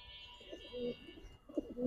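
Soft, low cooing from a pair of Giribaz high-flyer pigeons, a male and a female, heard close by in a few short throaty bursts over a faint background hum.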